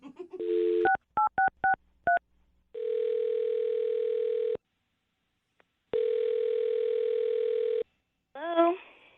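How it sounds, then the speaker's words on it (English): A phone number is punched in on a touch-tone telephone: a handful of quick, clear keypad beeps, then long steady ringback tones with pauses between them, loud and close, with no talk. "I'm going to dial her phone number right now,"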